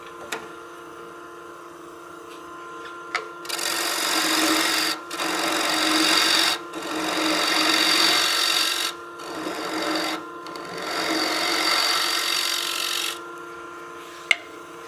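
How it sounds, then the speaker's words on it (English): A wood lathe spins a piece while a turning tool squares off the bottom of a tenon on an artifact pot, giving close, loud cutting and scraping in several sustained bursts over a faint motor hum. "And then I'll bring my tool rest over to square off the bottom of this tenon."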